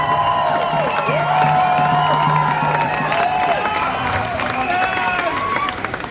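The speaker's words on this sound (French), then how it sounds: "On peut les applaudir." A crowd at Pride Valais claps and cheers, a steady dense roar with whoops and shouted voices rising over it throughout.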